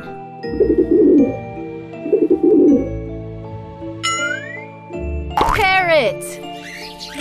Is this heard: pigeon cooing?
yes